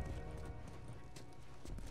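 Horse hooves clip-clopping in The Last of Us Remastered on PS4, a brief, continuous patter of hoofbeats under game ambience.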